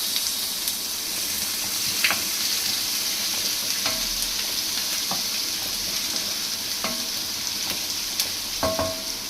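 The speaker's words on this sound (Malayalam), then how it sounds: "ചെറിയ ഉള്ളി ഇട്ടു അതൊരു ശകലം മുരിഞ്ഞ് വരുമ്പോൾ" Shallots frying in hot oil with mustard seeds, cumin and curry leaves for a raw banana thoran give a steady, bright sizzle, with occasional small pops and clinks from stirring, heard close by.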